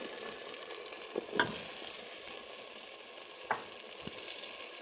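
Moroccan-style white beans cooking in a pan: a continuous close sizzle and fry with a few soft knocks and scrapes of stirring, no voices.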